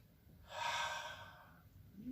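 A single slow breath drawn in during a calming bedtime yoga twist, soft and close, rising and fading over about a second.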